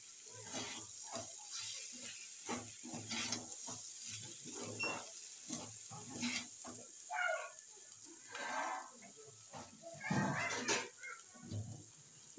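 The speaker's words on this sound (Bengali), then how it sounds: "ভালো করে একটু নাড়িয়ে চাড়িয়ে নিয়ে।" Khichuri being stirred in a pot after salt and turmeric go in, with a spoon scraping and knocking in a steady, uneven rhythm close by over a continuous sizzle and background hum.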